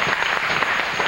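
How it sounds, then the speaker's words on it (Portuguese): A brief burst of studio audience applause on a television show, a dense and steady clapping wash lasting only a moment. "Uma salva de palmas pra Ellen"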